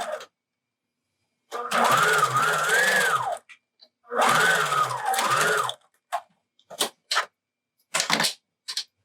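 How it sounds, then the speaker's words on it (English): A sewing machine stitches the long straight side of a fabric face mask at a quarter-inch seam, running in two sustained bursts of whirring with short clicks and handling noises between them, close and clear. "I'm going to fold and stitch the long straight side at 1/4 inch"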